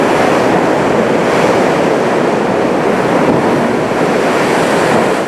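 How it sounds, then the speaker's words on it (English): The deafening blowhole at Loch Ord Gorge, fed from the ocean by a 250-metre underground tunnel, roars loudly and continuously with crashing sea waves, a dense, unbroken wash of noise. "Its most famous feature is this deafening blowhole."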